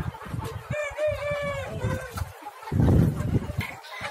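Native country chickens, around four and a half months old, at a poultry farm: a rooster's drawn-out crow rises clearly over steady clucking and scratchy flock noise, with a louder burst of clucking and flapping near the end.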